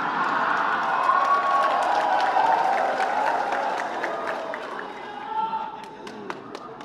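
Audience applause fills a meeting of Indonesia's parliamentary Commission II, a steady wash of clapping with scattered sharp claps, heard under and alongside talking voices.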